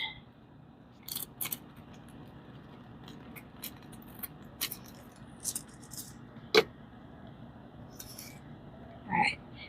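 Scissors snip through nail foil in a quiet room: a handful of faint, sparse clicks and cuts spread out, with one sharper snip near the end.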